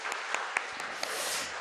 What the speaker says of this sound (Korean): 하나님께 감사로 영광의 박수를 돌려드리도록 하겠습니다